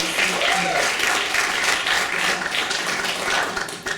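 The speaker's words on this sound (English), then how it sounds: "please give Kauser a big round of applause and welcome to the platform" An audience applauds steadily at a community talent showcase as a performer is welcomed to the platform, a dense, continuous patter of many hands filling the whole stretch without any talk over it.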